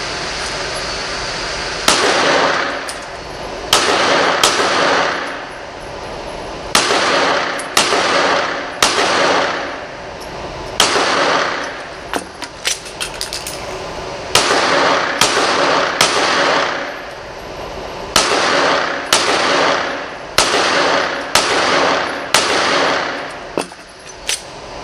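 Sharp handgun shots crack out in quick bursts of two and three during a casino shooting drill, loud and close, with short pauses between strings of fire.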